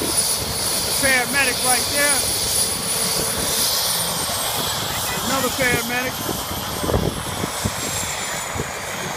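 A helicopter engine carrying a paramedic team drones steadily with a high whine, heard under close voices talking.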